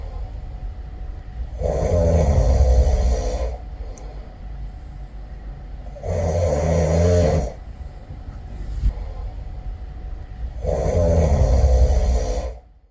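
Three loud snores, each lasting about two seconds, come at a slow steady rhythm with quieter breathing between them. The sleeper snoring is a man, and no talk is heard.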